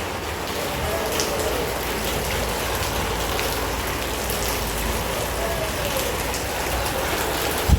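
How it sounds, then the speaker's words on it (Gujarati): Steady rain falls on a farm in an even, dense patter that is constant from start to finish, with no voices over it. "વરસાદ ચાલુ થઈ ગયો"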